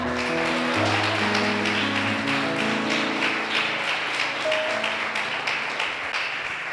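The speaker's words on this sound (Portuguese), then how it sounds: "Vamos aplaudir o Senhor." Congregation applauding in church, steady loud clapping from many hands sustained throughout, with held musical tones sounding beneath.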